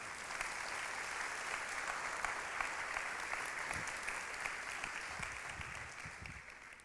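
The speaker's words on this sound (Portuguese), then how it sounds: "Pode aplaudir o Senhor." A church congregation gives a steady round of applause, dense even clapping that holds at one level for several seconds before easing slightly at the end, with no voices over it.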